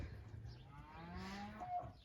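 Cattle mooing in a pen while being sorted for heifer selection, with several low, drawn-out moos overlapping one another at close range, alone with no talk.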